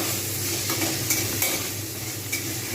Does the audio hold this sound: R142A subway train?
no